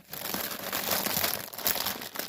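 A plastic bag crinkles close by for a couple of seconds as a stamped cross stitch kit is put back into it, a continuous rustle with no talking.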